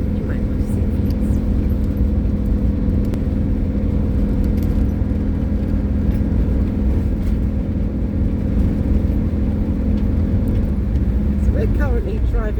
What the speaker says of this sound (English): So we're currently driving up the side of a mountain.